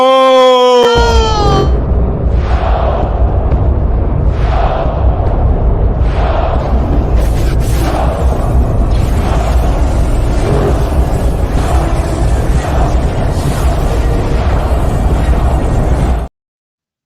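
A rapid series of loud booming blasts fires one after another, steady and close, for about fifteen seconds before stopping abruptly.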